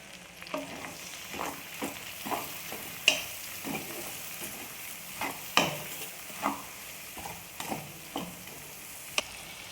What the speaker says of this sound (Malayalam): നമ്മൾ സവാള ഇട്ട് കൊടുത്ത്, പച്ചമുളക് ഇട്ട് കൊടുത്ത്, അതേപോലെ തന്നെ ഒരു കഷ്ണം ഇഞ്ചി, ഒരു 3-4 അല്ലി വെളുത്തുള്ളി അത് ഇട്ട് കൊടുത്ത്, അപ്പോൾ അതൊന്ന് വഴറ്റിയെടുക്കാം നമുക്ക്.